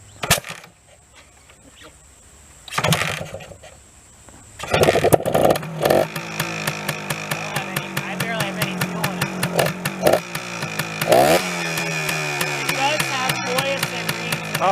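A classic Suzuki TS250 two-stroke motorcycle gives a couple of short kick-start bursts, then catches and runs. It stays close with a dense, crackling idle and repeated blips of the throttle.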